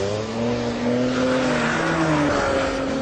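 A BMW Z4 sDrive35i convertible drives hard on a race track, its engine note rising and shifting steadily and loudly throughout with no voices.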